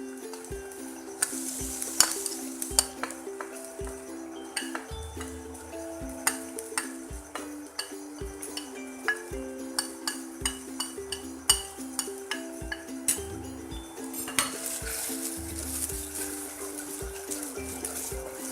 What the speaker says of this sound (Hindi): अब हम इसमें ये पिसे हुए मसाले डाल देंगे